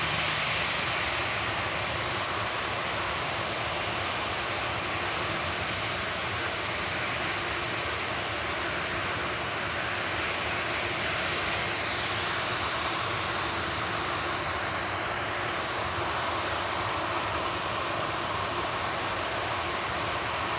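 An Aer Lingus Airbus A320 jet at Manchester Airport produces a constant, loud engine roar with a faint whining sweep partway through.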